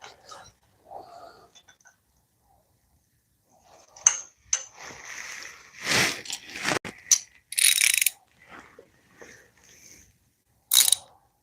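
A wrench ratchets on a nut during a Harley-Davidson Sportster stage 1 installation, heard as irregular scattered clicks and metallic scrapes in short bursts, close by, separated by near-silence, with a little voice present.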